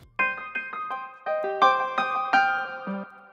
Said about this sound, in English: the first sound we got is this piano loop